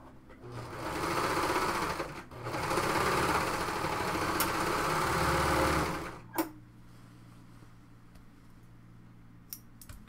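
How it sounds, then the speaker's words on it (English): A sewing machine stitches a blouse seam in two long steady runs of rapid whirring, separated by a brief pause and then a couple of small clicks as it stops. "now I can sew that with the right sides together on my sewing machine"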